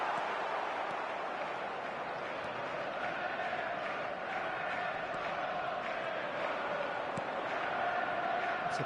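Steady stadium crowd murmur and rumble from a football video game, a continuous broad wash of many voices at moderate level with occasional swells, no cheering peaks standing out.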